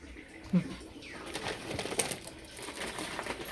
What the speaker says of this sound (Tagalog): Naririnig niyo mga ibon, mga palangga